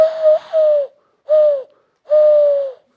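A mourning dove calls nearby with three soft, hollow cooing phrases, each a smooth held note separated by short silences, clear against a quiet backyard.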